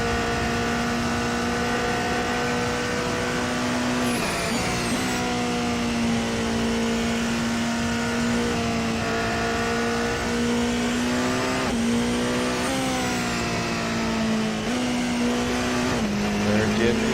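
Race car engine droning steadily through an out lap in a racing game, holding a strong tone with brief dips and rising revs at gear changes every few seconds, loud and close throughout.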